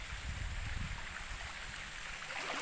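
A cold river flows near its spring source at a riverside spot in Tulo, Batangas; a steady, close babble and rush of moving water carries on without pause.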